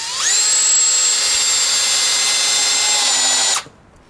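A Bauer 20v Hypermax cordless drill-driver on first speed drives 2.5 inch wood screws into wood without pilot holes, giving one close, steady high whine for about three seconds before cutting off.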